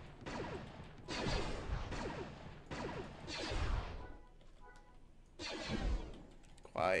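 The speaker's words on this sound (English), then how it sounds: "Quiet explosions." Video game explosions in Star Wars Galaxies: Legends, a series of muffled booming blasts and crashing bursts with sweeping whooshes, fairly quiet overall with short gaps between them.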